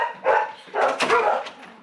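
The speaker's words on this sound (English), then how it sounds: "We have my dogs going crazy because the neighbors just came home." Dogs bark excitedly in a garage, two loud close bursts of rapid overlapping barks separated by a brief pause.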